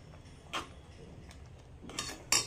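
Cream being stirred gently in a pan for methi matar malai, a few soft utensil clinks against the metal, with one at the start and a couple of sharper taps near the end, close and quiet, with no talking.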